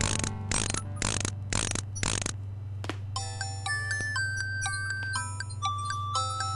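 Mechanical nightingale toy in King's Quest 6 being wound: a run of rapid ratcheting clicks over a steady low hum, then a tinny chiming melody of bright plinking notes.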